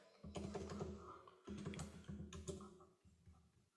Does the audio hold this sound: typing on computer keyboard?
yes